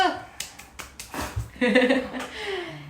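A handful of sharp, close hand claps ring out in quick succession at a hospital discharge celebration for a rehabilitation patient, then fade as a voice and light laughter follow.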